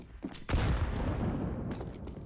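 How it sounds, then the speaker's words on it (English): A flashbang grenade goes off in Counter-Strike on the map de_inspection, a sharp close burst followed by a loud ringing wash of sustained noise that fills the rest of the moment. "Flashbang out."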